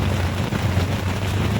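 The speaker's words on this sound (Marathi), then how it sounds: "खूप जोरात आलाय पाऊस" Heavy rain pours down in a steady, dense, close wash of noise that continues unbroken for the whole short stretch, with no voices.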